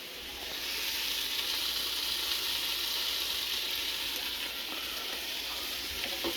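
Cut peppers frying in a pan give a steady, even sizzle that rises after a brief quiet start and holds at the same level throughout, with a faint scraping crackle underneath.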